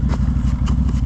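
A stock 2023 CFMoto CForce ATV engine idles close by with a steady low, lumpy thrum and a rapid even pulse, no voices over it.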